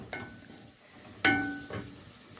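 Green beans being sautéed in a pan, with soft sizzling and two distinct scrapes of a utensil stirring them, the second louder, and no talking.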